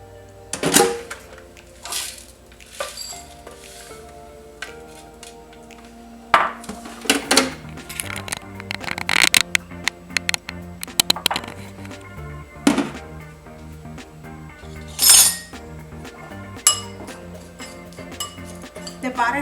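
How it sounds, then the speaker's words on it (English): Butter and ingredients being mixed in a bowl for no-bake strawberry cheesecake cups, with repeated clinks and scrapes of a utensil against the dish, irregular and close, some louder knocks between quieter stirring. "Now I'm going to mix them with the butter."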